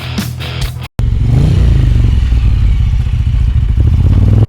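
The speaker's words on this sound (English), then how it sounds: "Man, that bike sounds good." A Ducati or Moto Guzzi motorcycle engine runs loud and close, a deep throbbing idle that stops briefly, then restarts and revs with heavy pulsing and some clatter.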